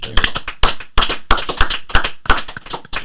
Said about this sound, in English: Let's just do one last round of applause for Mr. Denby